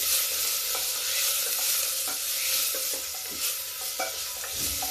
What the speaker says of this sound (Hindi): ये प्याज जो भून रहा